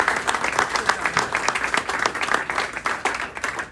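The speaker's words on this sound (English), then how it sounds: "let me give a round of applause" Crowd applause during a primary victory speech, sustained clapping from many people with steady rhythmic pulses, close and loud with no talk over it.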